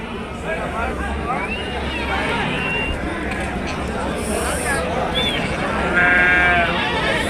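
Several sheep bleat amid a busy crowd murmur at a weekly sheep and goat market, with people talking nearby throughout.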